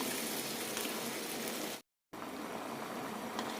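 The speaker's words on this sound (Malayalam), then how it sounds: "നന്നായി തിളച്ച് കുറുകി വരണം" A banana and coconut milk mixture for Kerala pazham nurukku boils and thickens in a pot with a continuous bubbling hiss. The sound cuts out briefly in the middle, and no one speaks.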